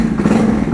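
An ATV 300 automatic CVT 4x4 engine runs close by with a loud, steady mid-pitched hum and slight clatter, holding an even idle with no pause.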